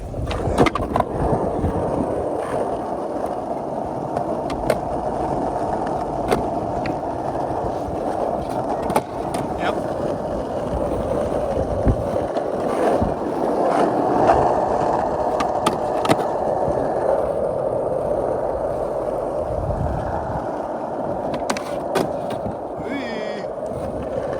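A skateboard fitted with Andy Anderson designed wheels rolls steadily over pavement with a constant grinding rumble, broken by sharp board clacks from tricks including a switch flip, with a voice now and then.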